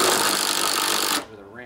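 A power tool spins out a 10 mm bolt on a John Deere LA145 riding lawnmower deck, giving a loud, steady buzzing whirr that cuts off abruptly after about a second, followed by a brief voice.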